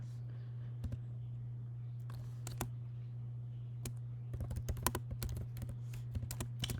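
Python code being typed on a computer keyboard: quiet irregular key clicks in short bursts and sparse single taps over a steady low electrical hum, close and faint with no speech.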